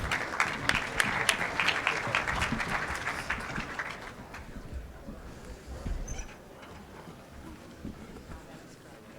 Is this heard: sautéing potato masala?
no